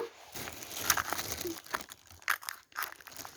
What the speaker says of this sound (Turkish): Şöyle hemen onu da açalım makasla.